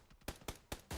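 Gunfire from the video game PUBG: four sharp, loud shots spaced roughly evenly in quick succession, each a broadband crack with a short tail.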